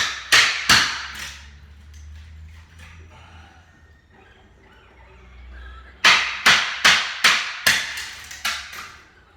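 Close, crisp strikes of a mallet driving a chisel while carving a wooden lacrosse stick: a quick burst of four blows, a lull with faint low rumble, then a rapid run of seven more hits.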